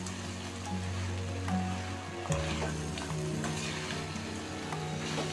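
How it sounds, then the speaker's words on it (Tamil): Steady loud sizzling and crackling of idli pieces frying in a hot pan, continuous throughout with occasional stirring scrapes. "நல்லா ஃப்ரை ஆகிருக்கு, எப்படி சத்தம் வருது பாருங்கள்."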